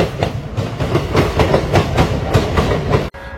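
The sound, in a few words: trains and locomotives at the Bardhaman loco shed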